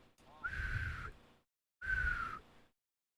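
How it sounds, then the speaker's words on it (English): Two breathy attempted whistles, each a wavering airy tone lasting about a second, separated by a short silent gap and heard close up. "I can't even whistle."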